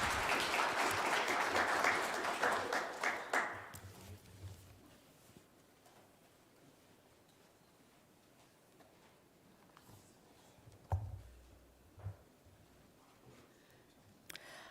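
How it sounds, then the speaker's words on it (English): An audience at a central bank monetary policy announcement claps a round of applause for the Monetary Policy Committee members, loud and dense for about three seconds before stopping abruptly, followed by quiet room tone with a few scattered knocks. "Can we please give them a round of applause?"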